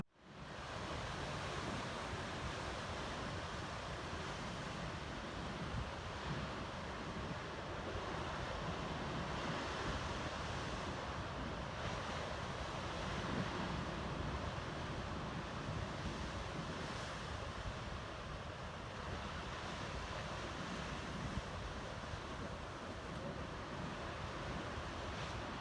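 Ocean waves wash ashore at Kiwanda Beach on the Oregon coast, a continuous broad roar of surf mixed with wind buffeting the microphone, steady and unbroken with no voices.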